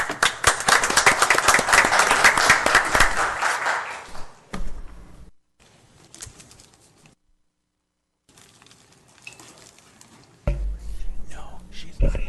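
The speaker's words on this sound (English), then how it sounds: "A round of applause" Applause from the audience at a city council meeting, loud sustained clapping that fades out after about four seconds, followed by quiet room murmur and a voice speaking near the end.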